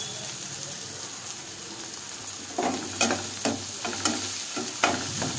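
Tomatoes fry with fried onions in a pan for a chicken masala curry, starting as a steady sizzle, then joined by a series of rhythmic scraping, mashing strokes of a spatula against the pan.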